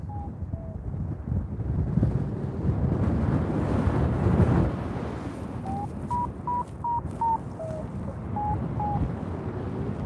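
Strong wind blows across a hill, buffeting the microphone in heavy, rushing gusts. It swells louder midway, then eases under a series of short electronic beeps toward the end.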